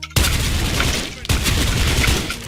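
M4A1 SOPMOD rifle fire in the game Special Force 2: two close, loud rapid bursts of automatic fire separated by a brief gap, each a dense rattle of shots.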